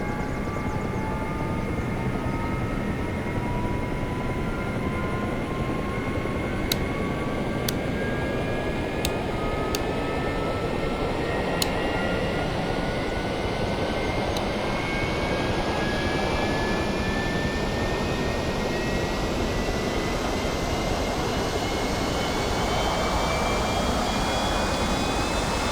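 A-4E Skyhawk jet engine spooling up from ignition toward idle in a flight simulator game, a steady loud whine with rising turbine tones over a continuous roar, with a few faint clicks early on.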